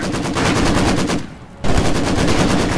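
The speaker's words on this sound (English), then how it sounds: "Light MGs now on the line." Light machine gun fire in the World War II strategy game Company of Heroes 2: loud, rapid rattling bursts, broken by a short gap before firing resumes.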